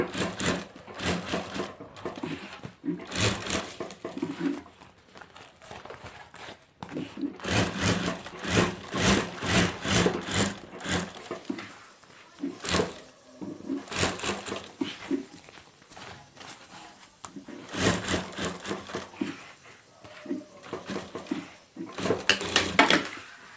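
A sewing machine stitches a handbag at home, running in repeated bursts of rapid buzzing with short pauses between seams, close and fairly loud.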